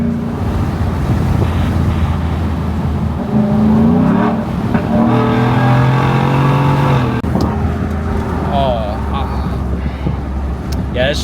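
Cabin view of a Ford F-150 single cab with an aftermarket exhaust accelerating in sport mode: a steady engine drone rises in pitch as it pulls, under continuous wind and road noise while someone talks throughout.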